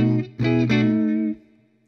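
Clean electric guitar tone from a 2012 Gibson Les Paul Studio through a Traynor YCS 90 amp in the middle pickup position, no overdrive pedal, sounding a few ringing chords that sustain and then fade out, played alone.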